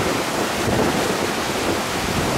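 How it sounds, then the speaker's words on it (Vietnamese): Storm waves pound against a high-speed ferry running between Phu Quoc and Rach Gia at sea, a loud, constant rushing roar of water and wind with no break. "mọi người cùng xem cái lượng sóng đánh nè"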